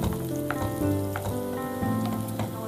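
Onions fry in a hot pan for a Hyderabadi dum gosht, giving a steady close sizzle with soft scraping and stirring clatter. No one speaks.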